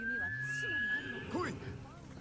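A horse whinnies in Ghost of Tsushima, a clear rising and falling neigh with a voice talking over and around it.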